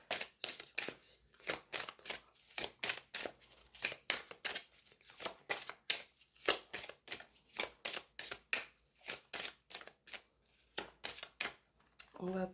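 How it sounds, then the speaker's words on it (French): Tarot cards are shuffled and handled in a fast regular run of crisp riffling slaps, close and steady, while someone talks over them. "On va prendre celle-ci pour ceux qui ont choisi le tas numéro 3. On va les mettre comme ça."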